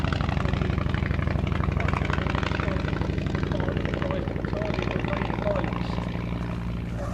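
Vintage bomber aircraft fly past at the Shuttleworth Air Show with a steady, loud propeller-engine drone that holds throughout and fades slightly at the end.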